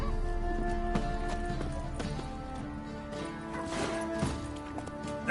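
Roach the horse gallops in The Witcher 3, quick rhythmic hoof clops running under game music and ambient layers, at moderate volume.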